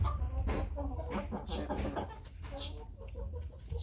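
Hens in a backyard chicken coop give repeated close, throaty clucks and short bursts of cackling over low background noise, with a person's voice faintly present.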